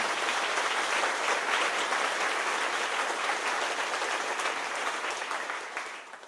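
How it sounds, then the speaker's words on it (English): An audience at a Governor Cuomo event gives a round of applause for Clarence Sundrum, dense sustained clapping that holds steady and tapers off at the end. "Let's give him a round of applause, Clarence Sundrum."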